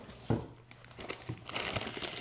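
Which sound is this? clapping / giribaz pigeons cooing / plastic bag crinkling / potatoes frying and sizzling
plastic bag crinkling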